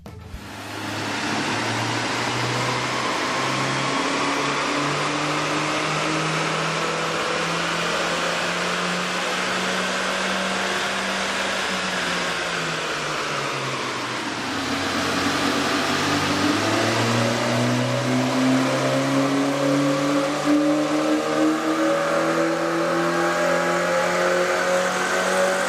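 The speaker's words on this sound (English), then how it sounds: "we ran the vehicle on the dyno to test the sound comparison versus the stock intake" Engine fitted with a K&N 69-1018TS cold air intake revving on a dyno, a loud sustained drone that climbs steadily, drops back around the middle, then rises again in pitch and intensity.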